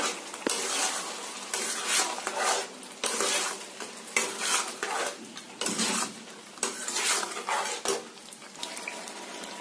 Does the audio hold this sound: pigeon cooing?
no